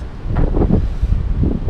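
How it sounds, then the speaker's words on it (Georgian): Light wind blowing across a ski slope at Juta, a steady gusty rush buffeting the microphone with a few stronger surges, heard alone without talk. "პატარაზე ქარი უბერავს"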